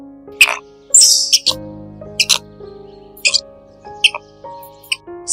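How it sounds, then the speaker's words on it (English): A squirrel gives sharp, high chirps and squeaky calls in irregular bursts, some rapid and some spaced apart. Each call is clear, close and loud, with no talk. "Squirrel."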